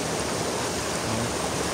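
Strong water gushes steadily from a spring outlet in the Philippines, a dense unbroken rushing roar, close and loud, with no voices over it.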